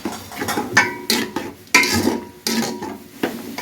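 Spoon stirring and clinking against a cooking pot as about a hundred grams of yogurt is mixed, with sharp repeated scraping strokes at an irregular rhythm, close and fairly loud.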